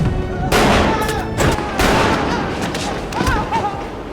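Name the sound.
gunshots from the film Joker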